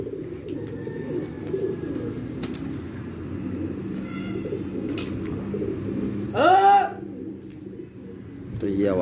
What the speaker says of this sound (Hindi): तो ये आवाज़ लगाई हमने अपने कबूतरों को।